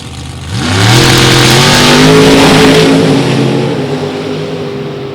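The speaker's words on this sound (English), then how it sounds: "Big run out of Tom Harger at over 209 miles an hour" NHRA drag racing cars making a run down the track, engines rising into a loud, sustained roar as they accelerate away, then slowly fading a little toward the end.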